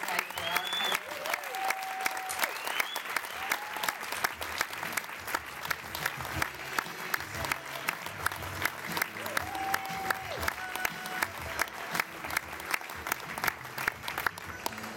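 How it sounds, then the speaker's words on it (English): A gala audience claps steadily in sustained, dense applause, with a few voices and whistles rising above the crowd. "could we all give him a round of applause"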